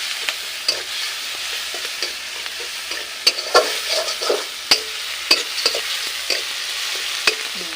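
A ground paste of onion, ginger and garlic fries and sizzles in a pan, stirred with sharp scraping clicks breaking through a steady crackle, with no talking.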